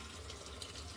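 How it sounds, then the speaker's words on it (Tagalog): Tap water runs steadily into a sink while bacteria are rinsed off food in a kitchen, a continuous close hiss lasting about a second with no one speaking. "Dapat running water."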